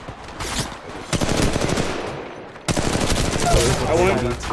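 Gunfire in the mobile battle-royale game Apex Legends Mobile: rapid automatic bursts and repeated close shots crackle over each other, with brief gaps between volleys and faint voices underneath.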